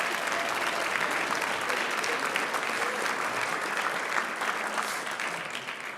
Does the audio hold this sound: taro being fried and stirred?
no